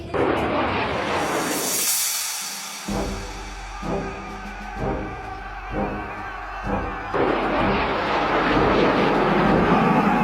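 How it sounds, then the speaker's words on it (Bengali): Cartoon sound effect of a Rafale fighter jet flying during a Durga Puja battle scene, a loud roaring jet drone with a series of rhythmic heavy thumps in the middle. "আমার ফাইটার জেট রাফাইলের কামাল ফ্রান্স থেকে কুবের এনেছে"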